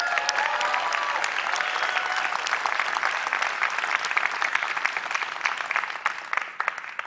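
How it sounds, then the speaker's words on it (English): Sustained applause from an audience at a startup accelerator demo day, honoring team members from Cox Enterprises; dense, steady clapping fills the whole stretch at an even, fairly loud level. "Give them a round of applause."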